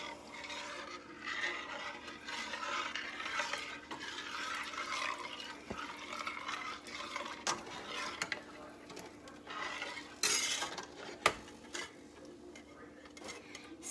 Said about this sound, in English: Then you want to stir it up.